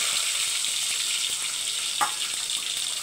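Dried red and green chillies frying in hot oil give a steady, dense sizzle throughout, with a faint stir or clink around the middle.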